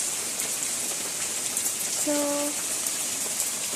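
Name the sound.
rain falling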